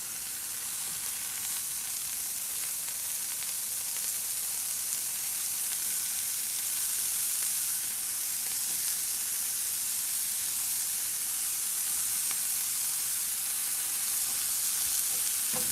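Rounds of mushroom stem and pieces of mushroom cap fry in a pan with a steady, dense sizzle and hiss that holds evenly throughout, with no voices.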